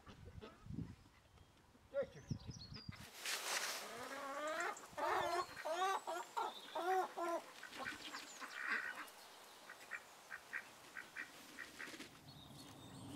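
Hens on a rural homestead cluck and chatter in a steady, busy stream of short calls, fairly close by, with brief pauses between bursts and a quieter rustle before they start.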